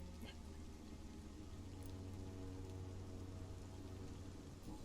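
Steady rain falls at night in a graveyard in the game Vampyr, an even continuous hiss of drops with no voices over it.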